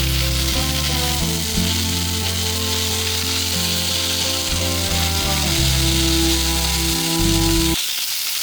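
Shrimp frying and charring in a pan, a steady, fairly loud sizzle with a droning tonal hum underneath that cuts off abruptly near the end.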